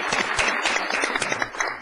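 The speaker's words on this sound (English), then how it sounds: "One more round of applause for our winners." Audience at a city council meeting applauding winners, a brief, lively spatter of clapping, close and steady for a couple of seconds.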